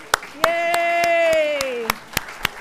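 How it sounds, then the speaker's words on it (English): A few scattered hand claps from a church congregation at a holiday pageant, sharp and spaced apart, while a drawn-out voice carries over them. "can you stand so we can give you a round of applause?"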